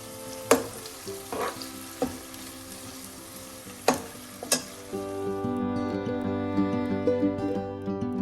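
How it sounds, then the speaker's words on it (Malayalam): Onions and tomato sautéing in a pan for a pomfret fish curry: a spatula knocks and scrapes the pan several times, then a steady close sizzle takes over as the pan fries, with no talking. "ഉള്ളി ഒന്ന് ചെറുതായി വഴലുമ്പോൾ നമുക്ക് തക്കാളി ചേർക്കാം."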